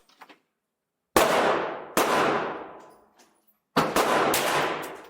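Three sharp pistol shots from a Ruger Mark IV Lite at a shooting range, loud and close, each ringing off in a short decaying tail, with a pause before the last pair fired in quick succession.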